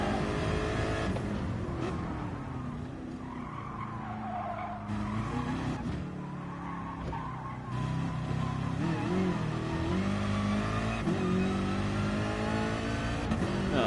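Race car engine on a Nordschleife practice lap before a five-hour endurance race, loud and continuous, rising and falling in pitch through gear changes, with tires squealing and skidding through corners.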